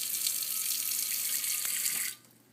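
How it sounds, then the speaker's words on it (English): Tap water running into a pie pan sitting in a sink, a steady, bright splashing rush that stops abruptly after about two seconds. "I'm going to add some water to it"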